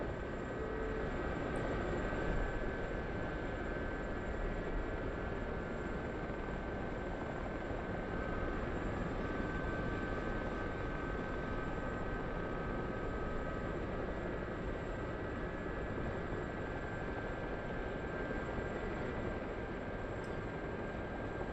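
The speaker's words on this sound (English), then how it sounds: "I hear another helicopter nearby." A Huey helicopter flying nearby in the DCS flight simulator, giving a continuous, steady rotor and engine drone that holds level the whole time, with no talking.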